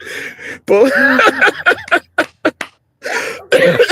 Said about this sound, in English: You guys just make me cough my lungs out